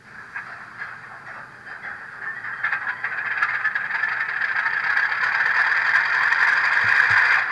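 A Rapido HO scale RS18u model diesel locomotive's sound decoder starting up, a mechanical rattling crank that builds into a steady, loud engine drone, heard close with no talk.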